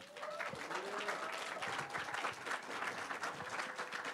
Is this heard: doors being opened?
no